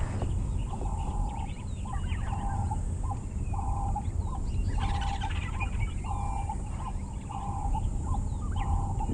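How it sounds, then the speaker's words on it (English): Ring-necked doves and other birds call outdoors at sunrise on an African safari drive, a repeated rhythmic cooing phrase at moderate distance over a steady background of wind and engine hum. "You can hear the birds calling, the ring-necked dove"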